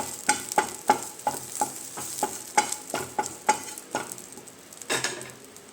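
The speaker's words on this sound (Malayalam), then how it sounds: "അടുത്തതായിട്ട് നമുക്ക് കറിവേപ്പില ചേർത്ത് കൊടുക്കാം. ഗ്യാസ് നല്ല ചൂടിൽ തന്നെയാണ്" Curry leaves sizzle in hot oil in a pan while a spoon clinks and scrapes in a quick, regular rhythm of close, sharp taps, all against a soft frying crackle.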